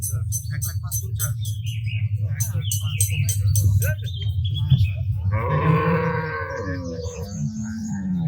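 Cattle being unloaded at a livestock market give a low, drawn-out moo that rises out of a steady rumbling hum, while people talk nearby.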